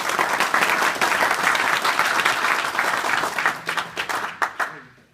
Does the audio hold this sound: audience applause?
yes